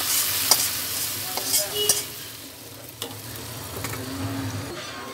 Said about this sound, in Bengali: এখন সেই বাদামি কালার করে রাখা পেঁয়াজ রসুন শুকনা মরিচটা আমি ডালের মধ্যে দিয়ে দিতেছি।